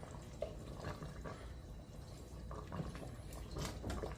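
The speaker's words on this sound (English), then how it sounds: "So go ahead on and pour that in and stir." Liquid poured steadily into an Instant Pot during cooking of a chuck roast, a continuous quiet splashing and trickling with soft drips, fairly close and without speech.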